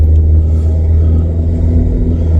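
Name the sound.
VW Vento car pulling away after gearbox fix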